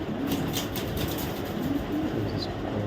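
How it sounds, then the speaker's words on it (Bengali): A young white dresser hen pigeon coos softly in a few low, rolling calls over a steady, noisy background hiss. "একদম ইয়ং একটা পার্ট একটা হোয়াইট ড্রেসার একটা মাদি কবুতর"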